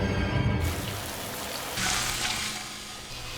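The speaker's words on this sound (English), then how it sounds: "Oh look, there's rain." Rain from the 2013 horror film Evil Dead, a steady broadband hiss of falling water that holds for a few seconds. It is moderately loud, with low rumbling underneath and no talk.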